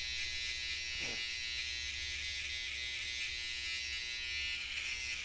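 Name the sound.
electric hair clippers cutting hair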